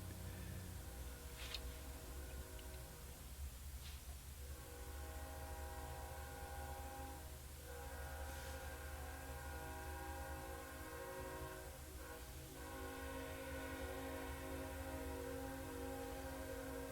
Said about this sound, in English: You may hear a train in the background.